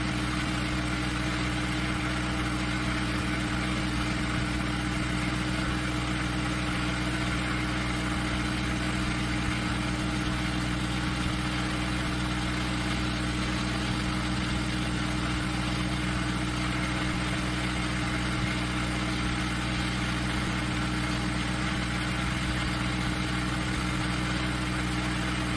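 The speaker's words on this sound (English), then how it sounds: "the flywheel looks almost fixed, but when I look at it with the naked eye, I can see that it's spinning at a great speed" A small DC motor drives a flywheel at high speed, giving a steady, unbroken hum with fixed tonal lines and a broad whirring hiss, constant in level throughout with no voices.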